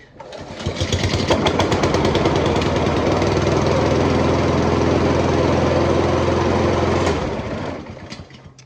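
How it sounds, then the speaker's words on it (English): A lawn mower engine catches and roars to life, running loud, close and steady for several seconds before the revs drop away and it winds down. "That was the mower that when I was buying it, it took them a few times to start it"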